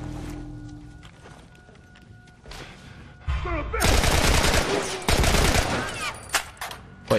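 Gunfire in The Last of Us Remastered, with dense broadband bursts and rapid repeated shots swelling loudly after a quieter start, with game ambience and short sharp hits.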